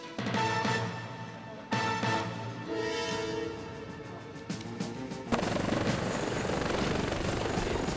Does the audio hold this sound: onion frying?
no